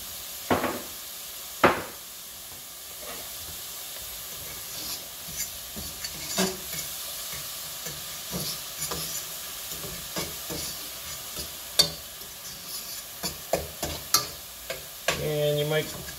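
Wild rice and corn soup being stirred in a pot while it cooks, with scattered scrapes and clacks of the utensil over a soft, steady simmering sizzle, close by, with no talking.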